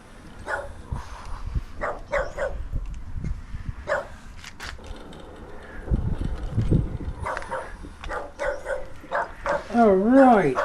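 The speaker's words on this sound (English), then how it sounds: "neighbor's dog" A dog barks in short repeated bursts at a middle distance, with a few higher yips, while a person talks over much of it.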